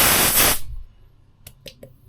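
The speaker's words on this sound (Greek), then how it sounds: "Αυτή είναι η βαλβίδα που βάζει το μπαλόνι εδώ μέσα και ουσιαστικά το πιέζεις και βγάζει αέρα." Air bursts loudly from a pressed balloon valve on a homemade air bank, a broad hiss lasting about half a second before cutting off, followed by a few faint clicks.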